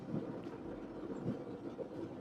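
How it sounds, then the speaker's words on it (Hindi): Cold wind blows steadily at Attabad Lake in Hunza, a constant low rushing roar buffeting the microphone with gusty surges throughout, no voices present. "ए भाई बहुत ठंडी हवा चल रही है"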